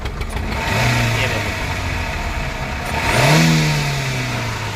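A Maruti Eeco van engine running on gas, revving up and easing back off, with the pitch rising and falling twice; someone talks briefly over the steady engine noise.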